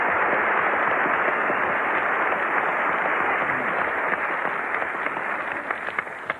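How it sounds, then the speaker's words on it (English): A large crowd claps steadily and loudly, a dense wash of applause that thins slightly toward the end as individual claps stand out. "I think we ought to have a big round of applause"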